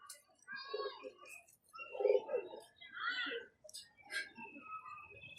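A pigeon with red feet coos softly in repeated low throaty bursts, close and fairly quiet, with faint chirps and a brief voice mixed in.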